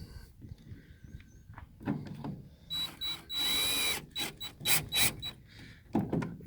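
A power drill tightening screws on the turn signal of a Ford F-350 Super Duty Lariat pickup, several short close whirring bursts and one longer run, separated by brief pauses and clicks.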